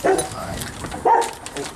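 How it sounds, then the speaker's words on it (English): Dogs bark and yelp in short bursts under a steady, noisy background, with two stronger barks near the start and middle. "You can hear the dogs."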